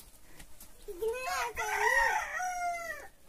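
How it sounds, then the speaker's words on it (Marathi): A rooster crows once nearby on a farm in the morning, a loud drawn-out call with rising and falling strains over faint background noise. "कोंबडा कुणाचा आहे?"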